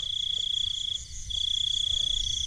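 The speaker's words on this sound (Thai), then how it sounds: "คือมีจิ้งหรีดนะ" Crickets trill in a rice field at night, a steady high continuous chirring with a brief dip in the middle, heard alone with faint low background noise.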